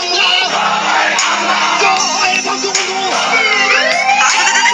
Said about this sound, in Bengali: দেখলেন তো পুলিশের গাড়ির ডাক শুনতে কি অবস্থা হলো এদের।